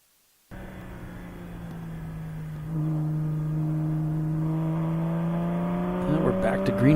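A Porsche Boxster races on track during a ChampCar endurance event, its engine droning steadily and rising in pitch as it accelerates, heard from on board with a louder burst near the end.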